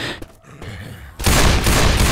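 Gunfire erupts in the video game Left 4 Dead 2 on Realism Expert difficulty: after a second of quieter game noise, a loud, dense burst of shots rings out and keeps going to the end.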